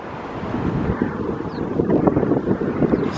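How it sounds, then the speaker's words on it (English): Wind gusts steadily across the microphone on a cable car above Istanbul, a rough, blustery rumble that grows slightly stronger toward the end. "Sorry for the wind, it's a little bit windy up here."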